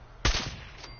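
A single heavy .50 caliber rifle shot fires in a video game, a sharp, loud crack that decays into a short rumbling tail.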